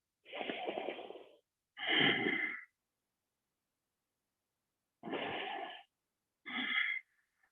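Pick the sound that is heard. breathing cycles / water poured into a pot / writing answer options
breathing cycles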